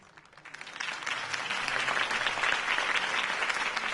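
Video game crowd applause from Batman: The Telltale Series swells from a quiet start into sustained, dense clapping that holds steady for several seconds.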